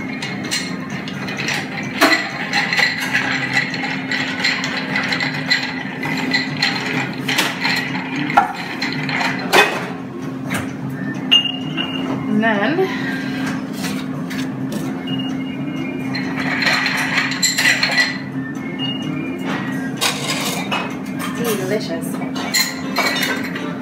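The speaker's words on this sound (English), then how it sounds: "Let's give it a good old stir." A cocktail with creme de figue stirred in a glass at a London bar during a busy foam party, with scattered clinks and clatter of ice and glassware over a constant murmur of background voices.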